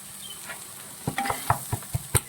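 Cooked rice being stirred and tossed with vegetables in a pan for chicken fried rice, a faint sizzle underneath and a series of distinct scraping, clacking spatula strokes growing more rhythmic toward the end.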